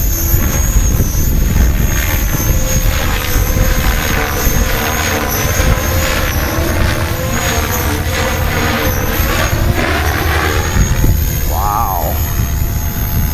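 A 600E six-cell electric RC helicopter flying, its loud continuous rotor whine and buzz rising and falling steadily as it moves nearby, with a brief exclamation from a voice near the end.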